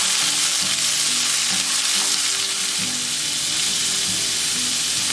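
Garlic and vegetables (onion, red capsicum, zucchini) fry in olive oil in a pan, a steady close sizzle with brief stirring scrapes, no talking.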